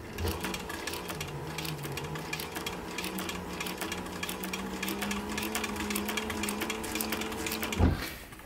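A sewing machine runs steadily, stitching through the thick layers of a short brim cap, its fairly quiet mechanical whir continuing unbroken before a brief thump near the end.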